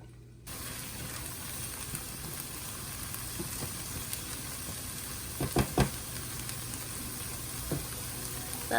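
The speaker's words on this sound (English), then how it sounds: "Stir it up and wait for the onions and the celery to cook and get a little translucent." Onions and celery cooking in a pan give a soft, steady sizzle, faint and even, with a few brief clinks and scrapes of stirring near the middle and no talk.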